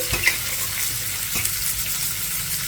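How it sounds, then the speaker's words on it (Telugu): Onions and curry leaves fry in a pan for cabbage fry, giving a steady close sizzle with faint stirring scrapes. There is no speech. "కొద్దిగా కరివేపాకు వేసుకొని ఉల్లిపాయ ముక్కల్ని 1 నిమిషం ఫ్రై చేసుకోవాలి."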